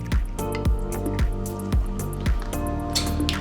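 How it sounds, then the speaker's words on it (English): Ice cubes rattling and clinking in a cocktail shaker with liquid splashing over them as 30 ml of vodka is poured in for a lemon meringue martini, a series of close, sharp knocks about every half second. "we're going to pour 30 ml of vodka"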